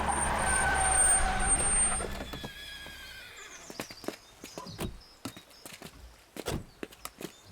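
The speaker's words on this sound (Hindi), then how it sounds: "यहाँ इतने सारे घोड़े क्यों हैं?" Many horses move along a road, hooves clip-clopping in a loose, uneven patter after a short whinny and a rumbling, noisy opening. The sound is moderately close with no talk.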